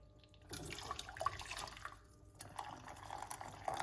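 Hot water trickles and pours into a cup, a faint, close, steady stream with small drips and splashes over a few seconds, no voices present.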